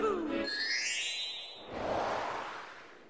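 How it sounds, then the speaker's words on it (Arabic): Super Mario Odyssey sound of entering a painting, matching the Mario 64 level-entry effect: rising, sweeping tones that give way to a soft airy whoosh, brief and moderately faint. "واحلى شيء لما تدخل لوحة في المرحلة راح تسمع نفس الصوت اللي تسمعه لما تدخل المرحلة في ماريو 64"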